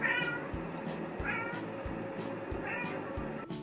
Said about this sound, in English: He's a Maine Coon.